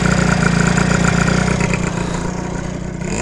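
A 120cc stroker Honda Elite scooter engine runs loud and close with a steady buzzing drone, its revs wavering slightly and settling lower toward the end.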